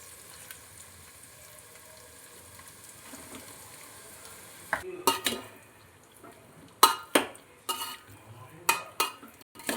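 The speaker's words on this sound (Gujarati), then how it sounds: "હવે આપણે વઘારને અને મુઠિયાને સારી રીતે મિક્સ કરી લેવાના।" Methi muthiya pieces being stirred into a hot tempering with green chillies in a pan, heard as a low steady sizzle and then a series of loud, irregular scraping and clinking strokes of a spoon against the pan.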